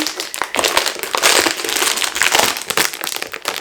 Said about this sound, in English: they do come sealed up really nice and tight in these like airtight bags